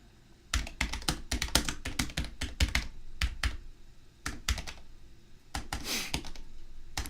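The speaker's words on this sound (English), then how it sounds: "You'll have to just allow me to type for a moment." Clicky keystrokes on a computer keyboard, close and fairly quiet, arrive in uneven bursts with short pauses, then a single louder clack near the end, with no voices.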